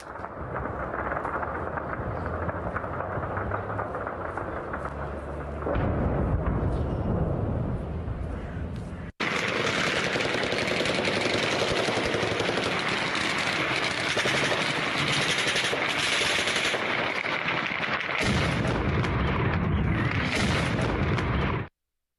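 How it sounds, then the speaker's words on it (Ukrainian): Loud, dense bursts of distant explosions and rapid air-defence gunfire in Dagestan crackle and boom continuously, with a sharp break midway before the barrage resumes even harder. "стріляли, намагалися якось збити, та все ж таки вибухи пролунали, купа пострілів."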